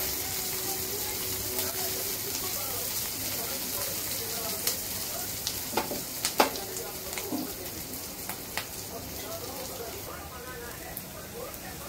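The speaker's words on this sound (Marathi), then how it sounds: "हलका सोनेरी रंग येईपर्यंत भाजून घ्यायचा आहे कांदा." Onion with garlic and ginger pieces frying in oil for a paneer curry, a steady low sizzle throughout with a few sharp clinks of a spoon stirring in the pan, close and fairly quiet.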